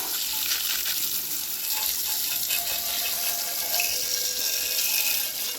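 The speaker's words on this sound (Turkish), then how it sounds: "Şimdi de yıkama zamanı." Water spraying steadily onto a Hero XPulse 200 4V motorcycle during a wash after riding dusty mountain roads, a continuous close hiss of running water throughout with no talking.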